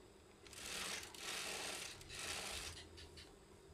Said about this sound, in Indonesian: Kita jahit sesuaikan dengan kampuh yang kita kasih.